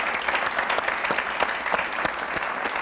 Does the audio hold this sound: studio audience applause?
yes